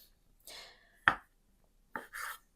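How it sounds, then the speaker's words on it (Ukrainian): A knife chops pepper finely on a board, giving a few sharp, close, isolated cuts separated by quiet gaps, with no voice. "дрібненько наріжу перець"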